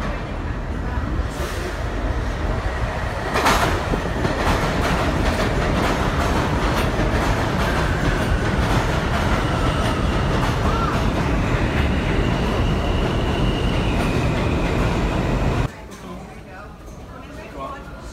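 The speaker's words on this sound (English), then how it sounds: "we've uh, just come onto the New York subway and we're on our way down to Ground Zero" Loud, steady rumble of a New York subway car riding the rails, with rhythmic clickety-clack and faint wheel squeal, up close from inside the train, then dropping abruptly near the end.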